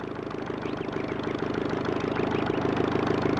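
An old light airplane engine idling on a small airfield before takeoff, a steady low droning hum that builds slightly in loudness, heard alone with no talk.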